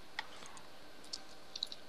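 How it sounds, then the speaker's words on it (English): Computer mouse clicks during Minecraft play: a few sparse, faint, sharp clicks spaced irregularly over a quiet background. "I can hear you clicking."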